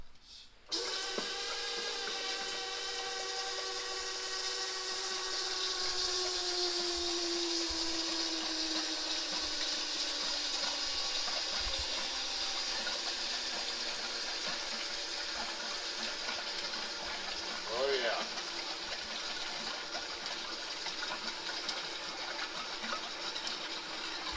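Old engine oil drains from an International 9670 cab-over truck after twenty years, giving a steady, loud gushing pour with gurgling and bubbling that runs throughout.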